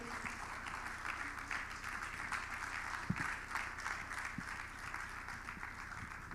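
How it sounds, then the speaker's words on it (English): A conference audience applauds a Google news executive taking the stage, a dense, even wash of many hands clapping that holds steady throughout at moderate distance, with one brief louder knock midway. "Please, let's keep the round of applause going."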